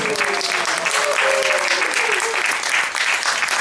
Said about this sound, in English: And give yourselves a round of applause.